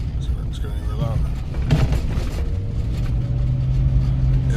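Cheap Lionhart Lionclaw 255/70R16 tires make a low, steady rumble and droning hum from inside a car on a rough, broken road, with thumps over bumps and a voice talking over the noise.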